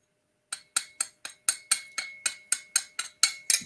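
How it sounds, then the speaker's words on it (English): Glass pieces clink against glass in a quick run of about a dozen bright, ringing taps, close and clear, speeding up slightly toward the end with no voices. "love that glass on glass sound"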